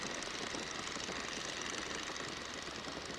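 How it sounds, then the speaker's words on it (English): A 1942 Stearman Kaydet biplane engine throttling back in flight, a steady, dense, rumbling drone with a constant mechanical roar and no talk over it. "I'm going to gently bring the power back. Get rid of some of this engine sound."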